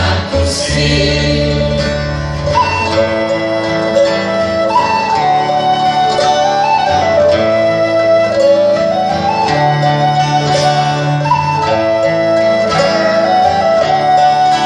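A ciaramella, the Italian bagpipe, plays live in a loud Sicilian folk performance, its reedy melody winding over a sustained drone.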